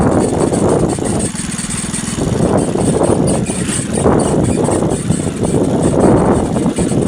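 A motorcycle rides along roads through Punjab villages, its engine droning steadily and loudly throughout with wind noise and small swells in pitch, no speech over it.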